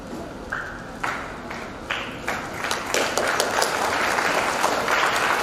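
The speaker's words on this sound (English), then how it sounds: "Give a big round of applause." Audience applause in a function hall during a career guidance session, starting as scattered separate claps that build into fuller, steadier clapping from the crowd.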